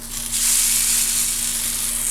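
A crab cake sizzles steadily in a hot pan, a loud, bright continuous frying hiss that swells after a brief moment and holds without pause.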